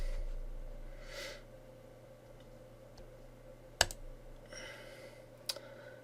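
Computer mouse clicking on a Windows Server 2016 setup, with two sharp isolated clicks standing out against a quiet room hum and faint soft rustles.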